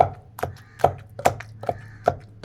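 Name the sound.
tomatoes being pounded with green chillies for chutney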